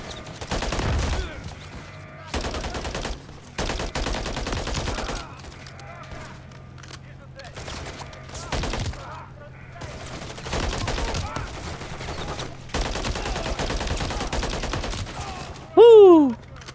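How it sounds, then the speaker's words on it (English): Gunfire aimed at the player in Call of Duty: Modern Warfare III, with repeated bursts and sharp volleys of shots in the near field, quiet gaps between them, and a rising whistling sweep near the end. "I'm getting shot at."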